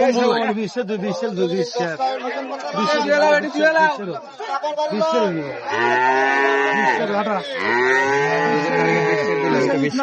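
Long, drawn-out moos from Sahiwal dairy cattle sound twice, close by, while a person talks over them at a cattle market in Raniganj.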